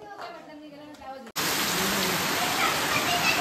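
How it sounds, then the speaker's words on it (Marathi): Heavy rain pours down during a Ganpati immersion gathering, starting abruptly after a second of children chattering and then roaring as a loud, steady, close wash of downpour. "आणि गणपती जाता जाता मस्त जोरात एकदम पाऊस आलेलो आहे."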